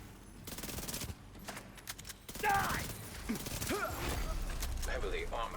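Video game gunfire crackles in rapid bursts and a fusillade of shots, mixed with mechanical clatter and game radio voices speaking over the action.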